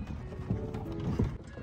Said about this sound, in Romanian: Tata, priviți, încă un cal!